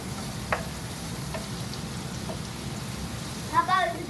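Onions dropped into hot oil give a steady, soft crackling sizzle throughout, with a few sharper pops and a brief louder spatter and stir near the end.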